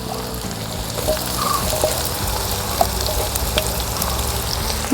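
Onions and shallots fry in a pan for Kerala-style chicken perattu, giving a close, steady sizzle and crackle with faint stirring scrapes throughout.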